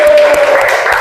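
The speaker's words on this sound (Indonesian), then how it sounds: "Oke, tepuk tangan." Audience at an Indonesian school counselling training session breaking into brief, loud applause, with a faint tonal hum underneath.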